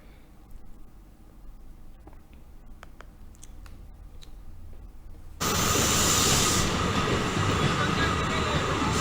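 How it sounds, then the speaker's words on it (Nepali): A train runs on the track during a test run. Quiet clicks and faint background noise open the clip, then a loud, steady rushing rumble begins abruptly partway through and continues to the end. "रेल परीक्षणका लागि आज लिकमा गुडाइएको हो"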